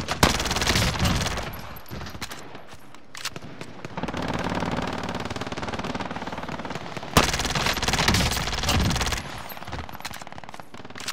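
Sustained automatic gunfire from a gun in Call of Duty: Modern Warfare on Rebirth Island, loud, close bursts with brief pauses and a second heavy volley near the end, with no talk.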